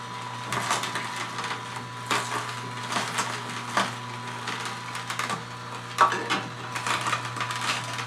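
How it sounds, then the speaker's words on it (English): An Omega NC800 horizontal auger juicer presses Swiss chard and a carrot, giving a constant motor hum under repeated crunching and cracking of produce, close and moderately loud with irregular bursts. "we're going to go ahead and finally push that last Swiss chard leaf in with that carrot and get all the pulp, run through the machine"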